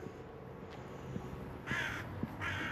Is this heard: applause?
no